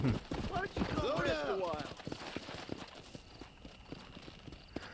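Horse hooves clip-clop in a steady rhythm in the Western video game Red Dead Redemption, clear and fairly close for the first couple of seconds, then fading to fainter steps under a voice and game sounds.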